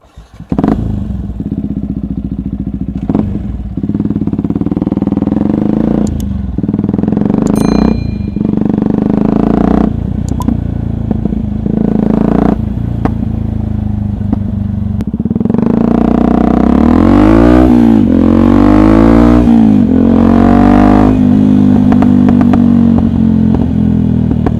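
A Yamaha WR125X motorcycle engine buzzes close by while riding, with repeated gear changes and revs climbing to a louder, sustained acceleration near the end.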